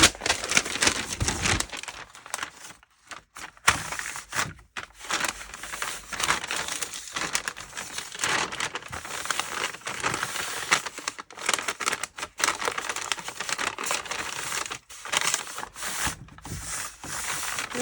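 Craft paper laid down and pressed onto glue tape on a thrifted piece being upcycled, a near, continuous crinkling and rustling with bursts of rubbing and short pauses, no talk.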